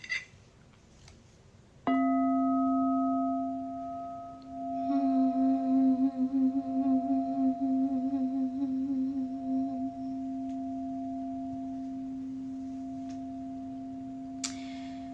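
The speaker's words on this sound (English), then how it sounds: "Do you want to know more about the sound bowls?" A Crystal Tones crystal singing bowl is struck and rings with a pure, sustained tone, swelling and wavering as it is played, then sustaining steadily before a soft tap.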